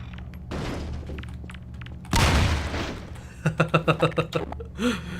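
A grenade is lobbed into a dumpster in Half-Life 2: Episode Two and bursts with a loud, broadband blast, followed by a quick series of sharp metallic clatters and thuds, with game ambience around it.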